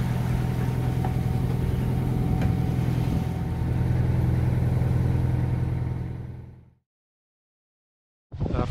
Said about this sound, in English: After motoring all night, we turned the motor off just to do our radio schedule with Sparari.